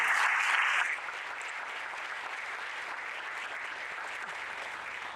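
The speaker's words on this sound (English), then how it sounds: "let's have an applause for Sophia and the team" Applause from a crowd at a groundbreaking ceremony for a Meals on Wheels building, loudest in the first second and then settling into steady, sustained clapping.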